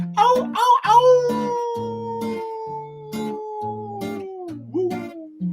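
People imitating howling wolves, with a series of sung, gliding 'ow' and 'woo' voice howls, some rising and falling in pitch, in close succession over a musical backing.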